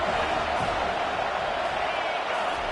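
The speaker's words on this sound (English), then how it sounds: "This crowd bringing the energy and noise early." A dense, steady roar from a large stadium crowd at a college football game involving Oklahoma, cheering continuously and loudly throughout with no breaks.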